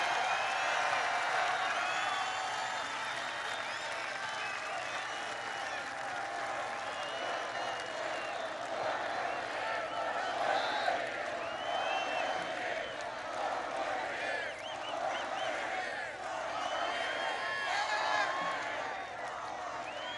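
A large rally crowd in a stadium cheers and applauds in a steady distant roar of clapping and shouts, sustained for around twenty seconds with no clear speech on top.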